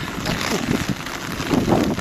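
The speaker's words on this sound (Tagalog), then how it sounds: "medyo malakas ang hangin" Strong storm wind buffets outdoors among residential buildings, a rough, continuous roar pressing on the microphone with brief gusting swells.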